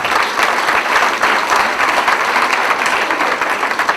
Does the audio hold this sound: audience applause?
yes